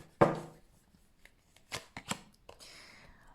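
Oracle cards from a Lise Bartoli light deck shuffled and drawn: a sharp slap of cards at the start, then a few separate quick flicks and riffles, close and fairly quiet, ending in a soft sliding rustle.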